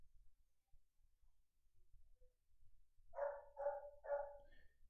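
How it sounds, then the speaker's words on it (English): Seamus, a loud pet dog, lets out three short barks in quick succession near the end, faint and distant as if from another room, after several seconds of near silence. "Sorry about my dog barking in the background."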